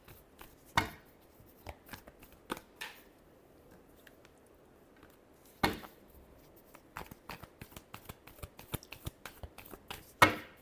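Tarot cards are shuffled in hand, giving soft papery riffles and taps at uneven intervals with a few sharper slaps, quiet and close against near silence.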